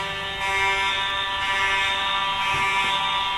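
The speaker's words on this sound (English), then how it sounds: "We've got a fire alarm again." A house fire alarm going off indoors, a loud, steady, high-pitched electronic tone pulsing continuously with slight rhythmic swells, heard alone with no voices.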